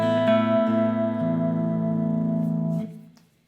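An electric guitar chord played through the soft cry effect preset on an Enya Sonic guitar, sustaining with a bright, harmonically rich tone for nearly three seconds before cutting off and fading into a short reverb tail.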